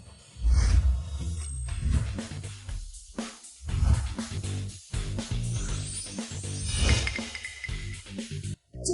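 Dogs bark and whimper in a chaotic dramatic scene, in loud, repeated close bursts that run almost without pause, mixed with bright clinking, glassy effects and no speech.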